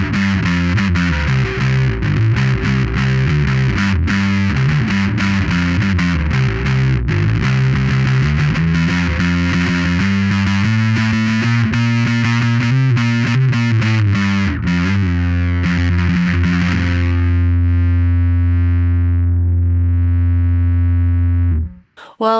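A bass guitar runs through an Olinthus Earwig Fuzz pedal, giving a loud, thick, distorted riff of shifting notes that settles into a long sustained fuzzy note before cutting off abruptly.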